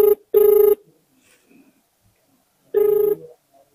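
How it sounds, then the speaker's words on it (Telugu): A phone call rings out with an electronic ringback tone in short repeated bursts separated by silence, loud and close. "కాల్ అయితే చేయడం జరుగుతుంది"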